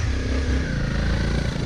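A motorcycle engine drones steadily close by, a loud, continuous low rumble as the bike pulls away, with no talking over it.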